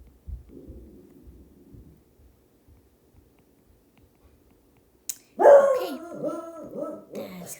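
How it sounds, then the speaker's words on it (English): A dog gives a short burst of loud, close barks after a few seconds of near silence and low murmuring. "That's Lucy barking."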